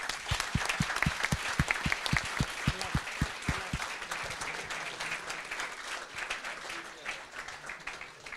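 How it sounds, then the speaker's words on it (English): Applause from the audience at the Balkan Sommelier Challenge finals fills the room with steady crowd clapping. Several close, sharp claps stand out early on, and a voice speaks over part of it. "One more big applause."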